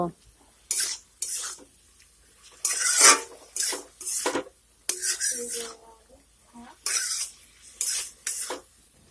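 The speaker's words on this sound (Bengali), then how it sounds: "ফুলকপি আর আলুটিকে পালং শাকের সঙ্গে মিশিয়ে নেব" Cauliflower and potato stirred into spinach in a pan, with bursts of spoon scraping and clattering against the pan in uneven strokes over a faint sizzle, close by.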